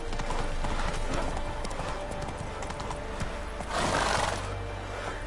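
Hooves of Roach, a horse in The Witcher 3: Wild Hunt, clip-clop in a steady trotting rhythm, close and loud, with a brief surge of louder movement midway and no talk.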